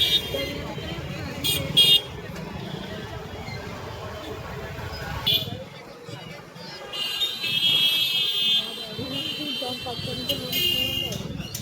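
Jammed traffic during the Lashkar Bonalu festival in Secunderabad, with repeated car and scooter horns tooting in short bursts over engine and road noise while someone talks throughout.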